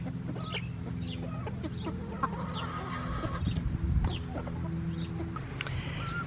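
Hens clucking softly at a distance amid steady low background noise, with a few brief chirpy calls scattered throughout.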